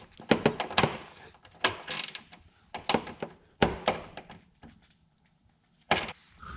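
Short wrench working on car sway bar end links on an EP3, giving clusters of quick ratcheting clicks and metallic rattles in bursts with pauses between.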